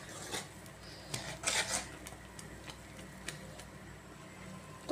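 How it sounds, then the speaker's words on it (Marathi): Rice dosa batter, made from ration rice without baking soda, stirred after salt is added: faint scraping and clinking of a utensil against a bowl in irregular strokes, with a few louder rubs. "मीठ घालून परत एकदा पूर्ण असं मिक्स करून"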